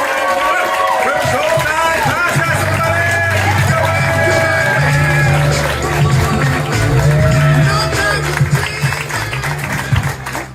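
A comedy club audience applauds and cheers for a headliner comedian, a dense continuous wash of clapping and whoops, loud and close, with voices mixed in throughout.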